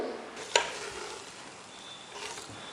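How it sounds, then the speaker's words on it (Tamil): Grated coconut roasting in a pan over medium flame, a faint dry sizzle with soft stirring scrapes and one sharp utensil tap near the start. "தேங்காய் வந்து கருகிடாமல் பார்த்து வறுத்துக்கோங்க"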